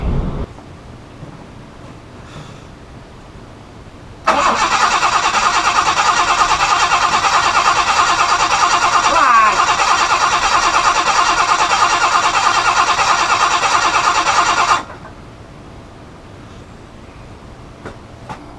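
A car engine cranks loudly and steadily for about ten seconds with a constant whirring drone, then cuts off abruptly into quiet.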